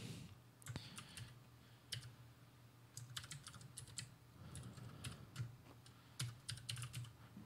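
Typing Python code on a computer keyboard, a steady run of light close key taps with bursts and short pauses over a low background hum, no talking.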